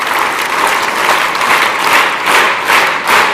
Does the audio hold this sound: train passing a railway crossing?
no